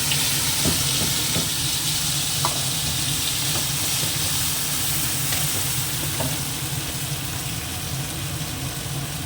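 Tomato and mustard paste sizzle steadily in hot oil in a pan, a loud continuous frying hiss with a few soft clinks of stirring.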